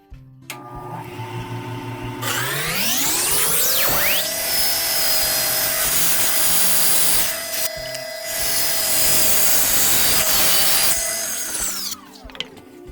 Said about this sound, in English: now I'll cut this thing in half. This piece of balsa wood here that I got.